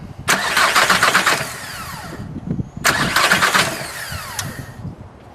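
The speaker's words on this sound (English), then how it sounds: "crank it, but don't let the engine start" A diesel engine cranks over without starting in two long bursts, the starter whirring rhythmically for a couple of seconds each time, with a pause between.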